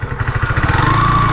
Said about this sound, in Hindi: ऊपर जाती है बाइक।